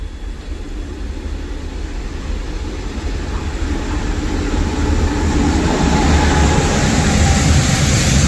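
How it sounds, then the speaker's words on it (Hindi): A fast goods train rushes past on the main line, a broad rumbling roar of wheels and wagons that builds steadily and stays loud throughout, with no voices over it. "ये गुड्स ट्रेन है भाई, गुड्स ट्रेन।"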